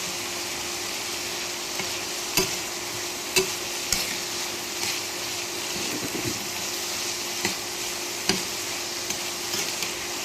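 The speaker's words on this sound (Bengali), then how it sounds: "এবার এটাকে নেড়ে চেড়ে ভেজে জল দিয়ে" Bottle gourd with small hilsa fish, turmeric, salt and green chillies stirred and fried in a pan: a steady close sizzle broken by scattered sharp spatula clicks, with no talking.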